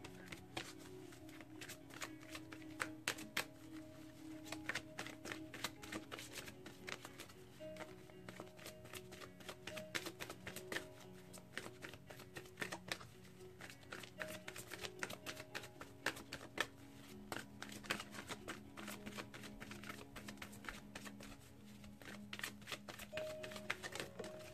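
Tarot cards being shuffled by hand to draw a single card, giving a steady run of soft riffling and flicking clicks over about twenty-five seconds, fairly quiet with a faint low background hum and no talk.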